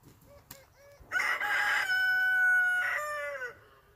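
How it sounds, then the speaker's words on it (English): A farmyard rooster lets out one loud, close crow, a drawn-out cock-a-doodle-doo, after a few soft clucks, with no talking over it. "How many roosters you got, Rob?"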